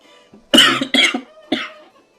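Three sharp, close coughs from one person, the first two in quick succession and the third after a brief pause, loud and alone with no talk.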